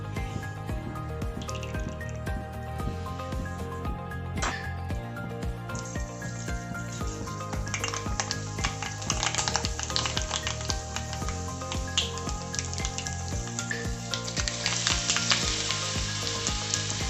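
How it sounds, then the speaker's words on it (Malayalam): Mustard seeds frying in oil in a pan for a cucumber pachadi, a continuous close sizzle that grows into dense crackling and popping, with no one talking. "ഇനി അതിനകത്ത് നമുക്ക് കടുക് വറുത്ത് ചേർക്കാം"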